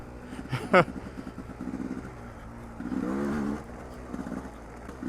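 A dirt bike engine revs faintly at a distance on a trail, with a brief louder burst early on and a short sustained rise in the middle, set against quiet background noise.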